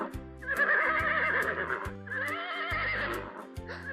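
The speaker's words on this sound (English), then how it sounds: "What's that sound? It sounds like a horse." A horse on a farm gives two loud whinnies in close succession, the second trailing off, over soft background music.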